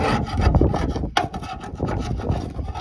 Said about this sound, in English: So it's really easy to just get in here and scrape this stuff off quickly.